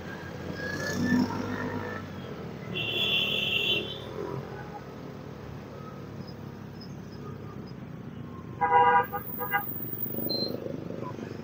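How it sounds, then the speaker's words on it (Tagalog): Road traffic in Bukal, Pansol, Laguna, with a steady rumble of engines and a short burst of car horn honking near the end. "Ay, yung traffic sa Bukal."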